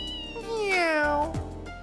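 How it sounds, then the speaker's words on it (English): A cat meows in the video game Trails in the Sky SC, one drawn-out, clear, tonal call that slides downward and then breaks off, close and alone. "There's the cat."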